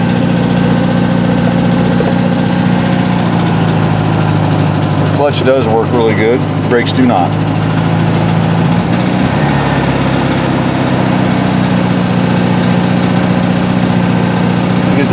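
A 1970 VW Beetle engine runs at idle with a worn carburetor, a steady low rumble throughout while someone talks over it and a few clanks and squeaks sound midway.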